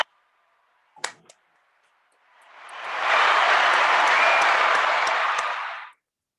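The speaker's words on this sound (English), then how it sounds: "can we get a round of applause for Kendrick Bourne, please?" Applause fades in smoothly, holds at a full, even roar for about three seconds, then cuts off abruptly. A couple of sharp clicks come just before it, and no one speaks.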